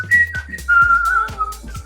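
A person whistles a short, bright tune up close, with a few clear sustained and sliding notes broken by breaths and soft clicks, alone without talk.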